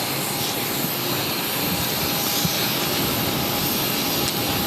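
Jet airliner taking off from runway 22 right at Boston Logan airport, heard as a steady broad roar from a distance that holds evenly throughout.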